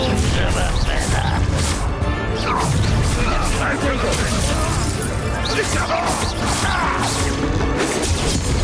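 Confringo fire spell cast in the Hogwarts Legacy video game, bursting amid a dense, loud battle mix of crashes, whooshes and impacts, with a voice shouting over the continuous clamor.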